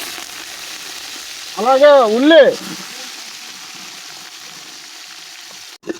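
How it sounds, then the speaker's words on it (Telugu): Onions frying in a pan for an Andhra-style prawn curry, a steady soft sizzle running throughout while a voice briefly speaks a single word over it near the middle. "ఉల్లి బంగారం కలర్లో వేగిన దాకా వేగించుకోవాలి"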